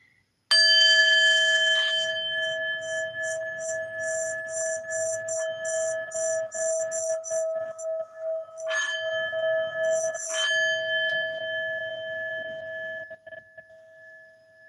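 A singing bowl rung around its rim sustains a bright metallic ringing tone with shimmering overtones and pulsing beats. It is struck again partway through and slowly fades, with no voices.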